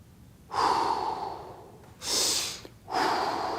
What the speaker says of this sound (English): Nice and steady with that breathing.